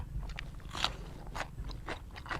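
Crunchy chili pepper bitten and chewed close up, several crisp crunches spaced irregularly over faint background noise.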